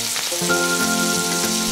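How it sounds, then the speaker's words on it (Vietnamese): Kimchi with onion and garlic sizzles in a hot pan as it is stir-fried, a continuous close crackling with a few faint stirring knocks beneath a tonal background. "Thêm chút hành tỏi, sau đó cho kim chi vào xào."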